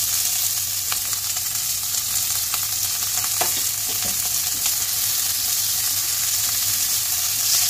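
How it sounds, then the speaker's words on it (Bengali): Chopped onion fries in hot oil with spices for a shahi dahi paneer, giving a loud, continuous sizzle close by, with a few utensil scrapes and taps breaking through the hiss. "মশলার সঙ্গে ভালোভাবে পেঁয়াজটাকেও আমি একটু ভেজে নেব।"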